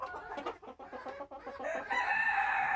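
Silkie chickens cluck in a run, a series of short close clucks followed by a longer drawn-out rooster crow, with no talking.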